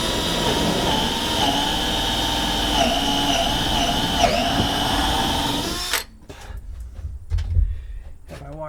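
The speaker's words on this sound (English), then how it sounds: "I want to drill this hole" Power drill boring a hole for porch ceiling wiring, a loud steady whine held for about six seconds before stopping abruptly, followed by quieter handling clatter.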